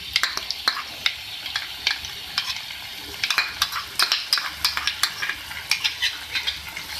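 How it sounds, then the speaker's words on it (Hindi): A spoon stirs an onion and yogurt paste into masala frying in a pan for egg korma, giving sharp scraping clicks and taps over a soft continuous sizzle. "अब मैं इसके अंदर वो पेस्ट डाल रही हूँ जो मैंने दही और प्याज के साथ बना लिया था"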